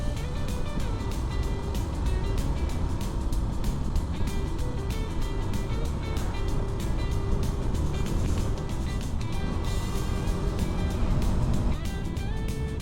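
Vehicles in a convoy of two Scorpio SUVs and several Innova cars roll past on a rainy ghat road from Srisailam, a steady loud engine and tyre rumble with road noise lasting throughout, no talk.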